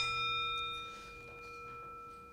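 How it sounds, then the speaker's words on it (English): A bell struck to open a worship program rings on as a sustained, clear metallic tone with a steady hum, fading gently across a couple of seconds in a quiet hall. "So I'm going to ring the bell, which means we start the program."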